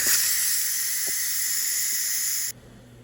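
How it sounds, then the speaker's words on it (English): Steam blasts loudly from a Ninja Foodi Deluxe pressure cooker during quick release, a steady broadband hiss that holds for about two and a half seconds and then abruptly cuts out, leaving faint room noise. "now we're going to go ahead and do a quick release"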